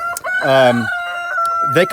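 A rooster crows loudly and close up, with a few short hen clucks just before and after.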